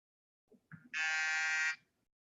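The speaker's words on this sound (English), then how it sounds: "guess that's a timer, right? Someone actually had a timer." A timer buzzes once, a loud, flat electronic buzz lasting under a second, preceded by a couple of faint knocks, in an otherwise quiet room.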